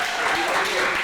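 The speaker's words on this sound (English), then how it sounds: "put your hands together for Strayhorn." A live event audience claps for the speaker Strayhorn in a short, steady burst under a faint murmur of voices.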